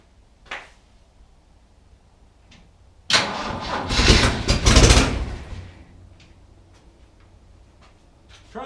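A 1973 Jeep CJ-5 with a partially rebuilt engine and the choke popped open cranks and catches after a faint click, roaring loudly for about two seconds before dying back to a low idle rumble with faint ticking.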